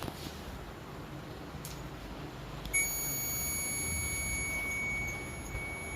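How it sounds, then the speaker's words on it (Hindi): A multimeter on continuity test gives a steady electronic beep that starts suddenly after a quiet stretch, then holds for about two and a half seconds before cutting off. "कंटिन्यूटी में इसकी ऐसे बीप की आवाज़ ऐसे साउंड आना चाहिए"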